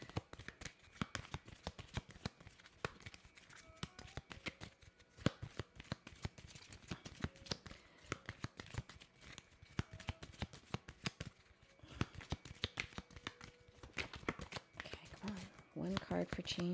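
Tarot cards being shuffled up close, a dense run of rapid papery riffles and slaps that continues steadily throughout.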